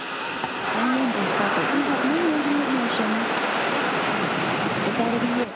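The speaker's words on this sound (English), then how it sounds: "T0 and liftoff of the HTV-8 and the H2B rocket carrying its way 4 tons of cargo to the International Space Station" An H-IIB rocket lifts off carrying the HTV-8 Kounotori cargo craft, its engines producing a steady, broad roar that stays constant throughout while a voice speaks over it.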